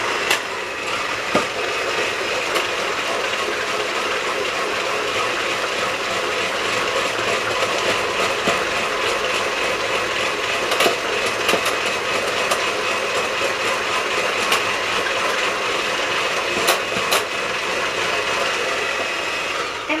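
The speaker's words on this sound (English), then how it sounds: "I have it on high, the highest that this little hand mixer goes" A small hand mixer running on its highest speed while beating sugar-free carrot cake batter, a loud, continuous whirring drone with rattling beater clatter, unbroken throughout.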